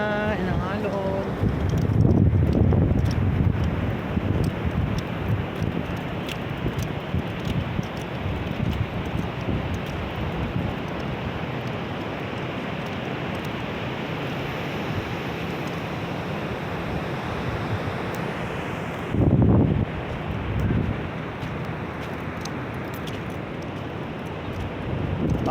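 Wind and surf roll in at Lingayen beach, with a constant wash of waves beneath heavy wind buffeting the microphone, including louder gusts near the start and again around two-thirds through.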